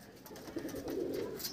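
Madras pigeons in a loft give a soft, rolling coo, faint and close, with light rustling around it.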